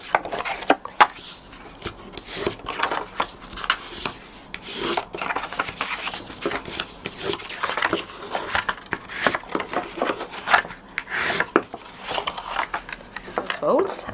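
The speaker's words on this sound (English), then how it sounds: "Next thing I'm going to do, I'm going to burnish these folds." Paper folds on a Stampin' Up window treat box being burnished, giving repeated dry rubbing and scraping strokes at close range, steady through the clip with brief louder swipes.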